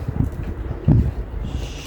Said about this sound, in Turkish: rüzgarlı havada çalışmak zor oluyor